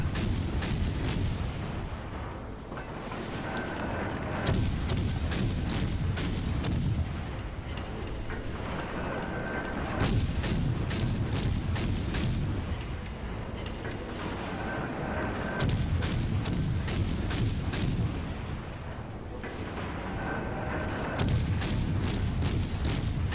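Naval artillery fire from a cruiser in World of Warships Legends, with repeated heavy gun booms in bursts and clusters over a rumbling game soundscape and music, loud and continuous.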